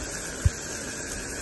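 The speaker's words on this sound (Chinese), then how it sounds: "把姜蒜爆香下入田鸡" Frog legs hit a hot pan of ginger and garlic over high heat for a Cantonese clay-pot dish, giving a steady, fairly loud sizzling hiss with one soft thump near the start and no voices.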